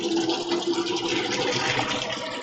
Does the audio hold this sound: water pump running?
yes